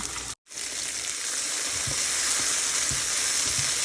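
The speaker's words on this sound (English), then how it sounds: "while I'm sauteing the peppers" Peppers sizzling as they are sautéed in a pan for a shrimp and rice dish, a steady close hiss of frying after a brief cut, with soft stirring knocks and no talking.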